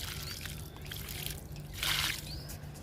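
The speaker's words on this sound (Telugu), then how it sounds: "గోంగూర మొక్కలకి వాటర్ ఇస్తున్నాను" Soft hiss of water trickling onto gongura (roselle) plants and soil, swelling briefly into a louder splash before settling back to a gentle stream.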